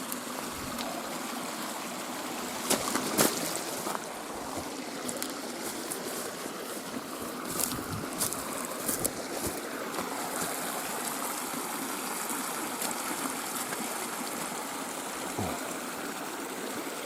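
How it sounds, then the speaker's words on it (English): An Idaho backcountry creek flows steadily with a constant rushing, burbling wash of water, interrupted by a few faint clicks and knocks, with no talking. "This little creek section right here is beautiful."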